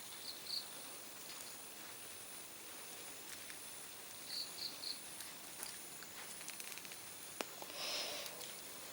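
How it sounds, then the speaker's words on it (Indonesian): Faint, high cricket chirps come in a few short spaced bursts over a steady background hiss, quiet and somewhat distant, in the morning. "kita sempatin untuk rekod jangkrik"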